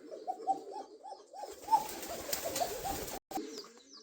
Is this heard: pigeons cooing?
yes